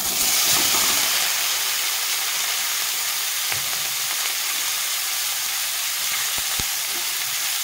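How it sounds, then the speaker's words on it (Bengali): Boiled potatoes and cauliflower frying in hot oil with dry red chilli, bay leaf and whole cumin, a loud steady hiss and sizzle close up, with a couple of faint utensil taps and no voices. "হালকা করে ভেজে নেব ফুলকপি আলুটা"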